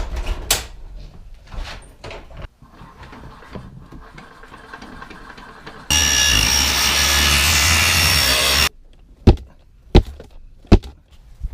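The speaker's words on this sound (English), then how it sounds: "I'm going to set up the table saw and we'll trim him down" A table saw trims a board down in a workshop, a steady loud whining cut of about three seconds with the blade running through the wood, framed by quieter knocks and handling clatter before and a few sharp taps after.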